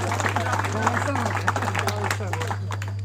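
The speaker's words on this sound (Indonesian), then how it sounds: "Tepuk tangan untuk para goeser ya." Audience clapping for a group of cyclists at a scout event in Batam, heard as scattered sharp claps running beneath someone speaking over a loudspeaker with a steady electrical hum.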